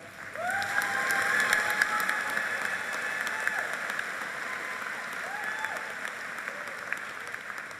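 A commencement audience gives sustained applause, a broad, even patter of clapping from a large crowd in a hall, with faint voices mixed in.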